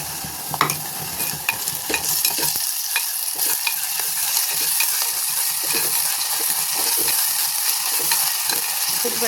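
Onions tinted with turmeric fry with ginger and garlic in a clay pot, giving a loud, close, continuous sizzle broken by scraping stirring strokes near the start, with no one talking.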